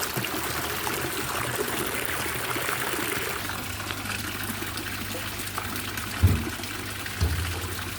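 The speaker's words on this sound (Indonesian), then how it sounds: "Air bendungannya itu masuk ke sini teman-teman, dan keluarnya di sana yang pancuran kecil." Water from a dam channel flows through a small spout into a fish pond, a steady close trickle and splash with a low hum and a couple of thumps.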